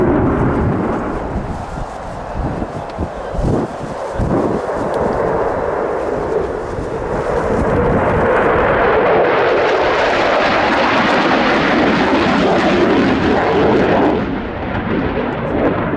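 An F-16 fighter jet flying a display with full afterburner at an air show, a heavy crackling roar that builds and then surges into a loud sustained blast before easing slightly.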